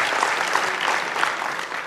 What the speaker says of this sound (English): And a round of